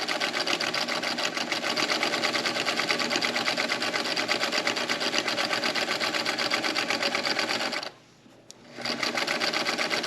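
A sewing machine stitches fabric for a prayer pillow in a steady, close, continuous whir that briefly cuts out for about a second before starting up again.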